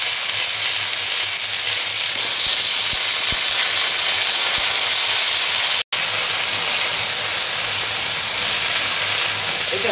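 Vegetables including onion and snake gourd frying in a hot pan for a Bengali hilsa-head and Malabar spinach dish, giving a steady, loud broadband sizzle and hiss with a brief break midway and no talking.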